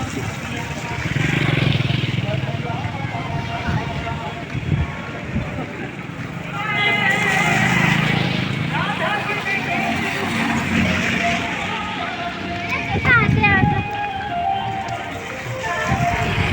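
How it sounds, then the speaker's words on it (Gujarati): Crowded vehicle traffic rumbles at a rainy Janmashtami village fair in Chavand, Gujarat, with motorcycles and cars passing close, engines swelling and fading and occasional horn blasts, under someone speaking. "ભીડ જામી ગઈ છે વાહનની."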